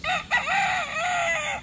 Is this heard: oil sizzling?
no